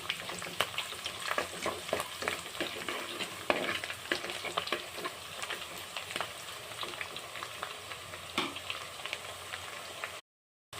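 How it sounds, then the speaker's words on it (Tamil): Garlic sautéing in a pan while a spicy kuzhambu with drumstick, brinjal and coconut milk is being made, a steady close sizzle with repeated scraping stirs throughout, cutting out near the end. "பூண்டு சேர்த்து இதை நல்லா வதக்கி விட்டுக்கோங்க"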